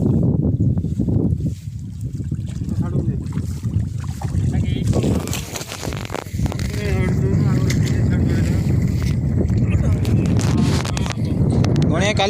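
Strong wind blowing at sea on a fishing boat off Paradeep, gusts roaring and buffeting close to the microphone with brief lulls, while someone talks throughout.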